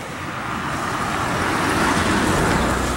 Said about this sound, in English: So the cars are coming actually behind me.